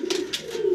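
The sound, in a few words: grizzle racer pigeon cooing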